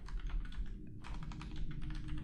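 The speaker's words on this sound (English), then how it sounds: "if you were typing an email" Rapid typing on a computer keyboard, with steady clustered keystrokes and one short pause midway, close and alone while someone writes an email.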